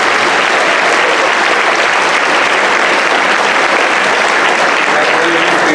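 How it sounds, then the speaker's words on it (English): A crowd at a junior high award ceremony applauds students, a loud, dense, unbroken wash of clapping filling the hall at constant strength throughout. "Let's give all these students another big round of applause."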